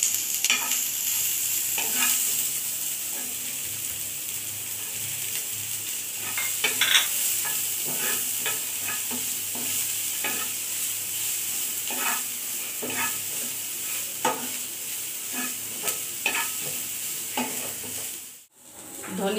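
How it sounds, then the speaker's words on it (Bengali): Onions and green chilies fry lightly in oil in a pan, a steady sizzle broken by repeated scraping stir strokes at an irregular pace, close up with no talk, briefly dipping away near the end. "পেঁয়াজ আর কাঁচামরিচটা হালকা করে ভেজে নেব।"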